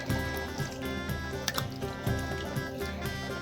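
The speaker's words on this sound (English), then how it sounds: "Wash the Compio lightly in the water for a few minutes." Compio is washed by hand in a bowl of water, with soft splashes, drips and sloshing in an irregular rhythm, close and moderately loud, with no voices.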